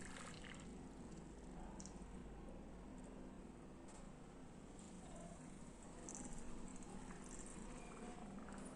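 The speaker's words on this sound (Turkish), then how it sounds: "Arıtılmış içme suyu ortam sıcaklığında ilave ettim" Room-temperature purified drinking water is poured over apples, a soft continuous trickle and patter of liquid that stays fairly faint and steady throughout, with no talking.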